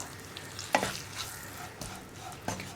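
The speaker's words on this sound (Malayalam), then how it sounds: "നമുക്ക് കൈയെടുക്കാതെ ഇളക്കി കൊടുക്കണം" Green gram is stirred in ghee in a pan over a low flame, giving soft scraping and shuffling strokes with a few sharper knocks of the spoon against the pan, fairly close and without any talk.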